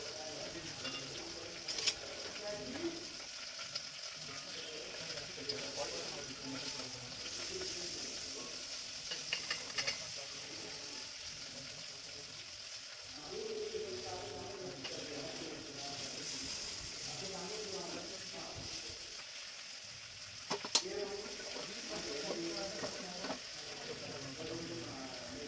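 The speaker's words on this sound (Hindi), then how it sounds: "मैं ऑनियन और ग्रीन चिली भी ऐड कर दूँगी और इसे थोड़ा हल्का लाल होने तक भून लूँगी" Onion, green chili and okra frying in a pan, a long steady sizzle broken by stirring scrapes and a few clinks of a utensil, close and continuous with no one speaking.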